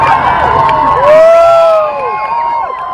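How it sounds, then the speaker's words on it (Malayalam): A loud, close political rally crowd for former Chief Minister Pinarayi Vijayan shouts and whoops, with rising and falling jeers layered over a dense roar of voices. "കൂവലി കൊണ്ടോ ആർപ്പുവിളി കൊണ്ടോ ഭയപ്പെടുന്ന ഒരാളല്ല ഞാൻ"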